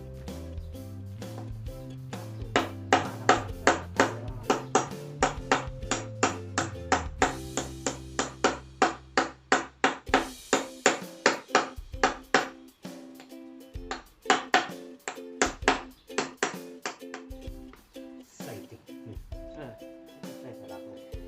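Metal hammering on a bearing being driven into a John Deere tractor front axle, a long run of sharp ringing clanks in steady rhythm, close and loud, with a low hum early on and a few pauses later.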